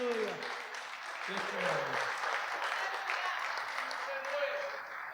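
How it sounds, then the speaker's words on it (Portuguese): Congregation applauding in a church during a couples' gathering, fairly faint steady clapping from many hands with voices and sung or spoken tones running underneath. "Vamos aplaudir ao Senhor."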